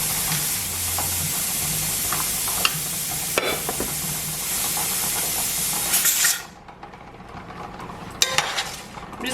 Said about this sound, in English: gonna stir the cabbage around. Try to get some of the olive oil coated on all of it and on the bottom of the pan.